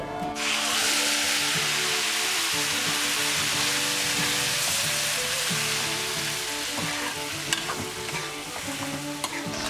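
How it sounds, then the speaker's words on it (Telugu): Drumstick and raw mango pieces frying in a hot tempering for Nellore-style dal, a loud continuous close sizzle with occasional spatula scrapes and clinks, no talk. "వీటిని ఈ పోపులో వేసి ఒక 2 మినిట్స్ వరకు మగ్గించుకుందాం"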